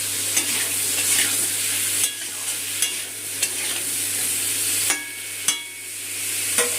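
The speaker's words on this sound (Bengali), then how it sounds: "দিয়ে আলু পেঁপেটা ভেজে নেবো, গ্যাসটা বাড়িয়ে দিই" Sliced potato and papaya frying in oil with salt and turmeric over a raised gas flame, a steady moderate sizzle punctuated by sharp spatula knocks and scrapes against the pan every second or so, no voices.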